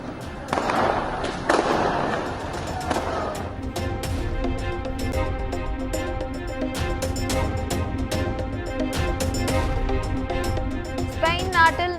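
Scattered fireworks pop and crackle, some sharp and some muffled, amid a murmur of voices and crowd noise.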